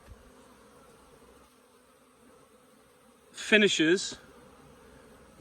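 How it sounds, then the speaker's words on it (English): Honey bees buzz steadily and quietly around a busy hive entrance during the ivy flow, a faint continuous drone under a short burst of nearby speech. "Look at that activity here."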